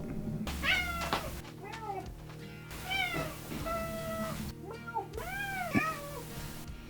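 Several cat meows in a row, rising and falling, fairly close, with brief pauses between them and a low steady hum underneath.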